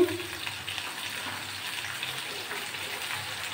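Cut and washed pointed gourd dropped into a pan of hot oil with potatoes, giving a steady wet sizzle and hiss that holds evenly for a few seconds after a brief initial burst.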